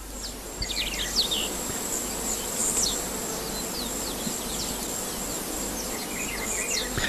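Bees buzz around nectarless oil flowers of the Malpighiaceae family, a dense continuous insect drone close to the listener, with faint bird calls and chirps scattered over it.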